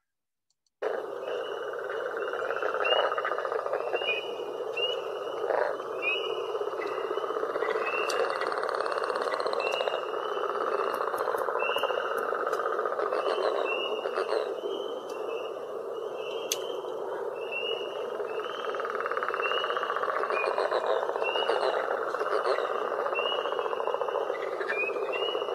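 A green frog calls alone in a night wetland chorus, its steady repeated notes carrying over a dense background of other frogs and insects for the whole stretch.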